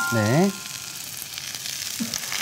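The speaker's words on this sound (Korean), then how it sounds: "지금 채소를 먼저 볶고 계시잖아요" Vegetables stir-fried in a pan with a little salt give a steady, close sizzle, with a brief voice-like sound at the start.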